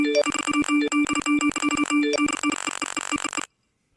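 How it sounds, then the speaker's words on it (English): A phone rings with rapid, repeated electronic ringtone and notification chimes, stacking busily for over three seconds before cutting off abruptly into silence. "this is what my phone would sound like or will sound like when I post this video"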